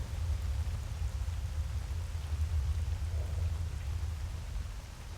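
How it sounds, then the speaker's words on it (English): Torrential rain pours down after a blowout in the game STALKER, a dense, continuous roar of downpour with a low rumbling undertone, steady and close throughout. "At the end of every blowout, you're usually hit with, like, torrential rain for, like, 2 minutes."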